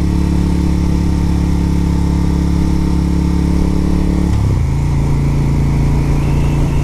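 A Moto Guzzi motorcycle engine runs loud and close for the whole stretch, a steady idling rumble that dips in pitch partway through before settling back to a constant drone, with no talking.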